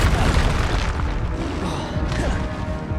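A Confringo blasting curse explodes in Hogwarts Legacy amid continuous loud booming combat effects, dense and sustained with crashing layers throughout.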